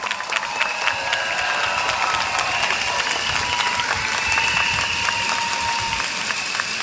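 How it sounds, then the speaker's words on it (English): A campaign rally crowd at Jurong West Stadium applauds in a steady, dense wash of clapping that holds loud and even throughout, with faint tonal sounds running underneath. "A warm round of applause"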